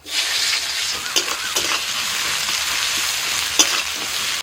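Steady crackling sizzle of chopped onion frying in oil, with a few sharper clinks and stirring scrapes, close and continuous.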